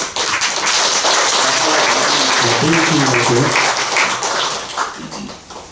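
Strong, sustained audience applause at a Buddhist Dharma ceremony, many hands clapping densely and evenly, with voices speaking over part of it before it fades.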